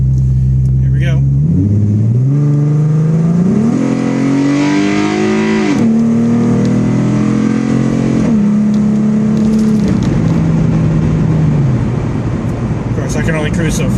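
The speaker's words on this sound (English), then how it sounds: "I'm going to give you a nice wide open throttle sound from in the cabin and then some cruising speed." Car fitted with Pypes Bombs mufflers and Magnaflow Magnapacks, heard from inside the cabin at wide open throttle: a loud exhaust drone rising in pitch through several gear changes, then easing to a steady cruise.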